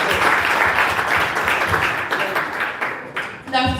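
An audience at a university entrepreneurial summit applauds, a dense wash of clapping that stays loud and then tapers off near the end, with a few voices mixed in.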